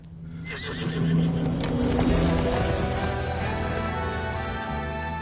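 A horse neighs loudly and close, a drawn-out whinny followed by shuffling hoof clip-clops and movement, with no talking.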